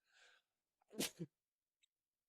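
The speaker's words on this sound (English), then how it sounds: "I'm about to sneeze." A single sharp sneeze bursts out after a brief breathy intake, then a faint sniff; otherwise quiet.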